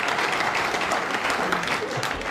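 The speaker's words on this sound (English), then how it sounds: "You live in the Fens and you applaud that remark." Studio audience clapping on a panel comedy show, a brief burst of broad, even applause lasting a couple of seconds.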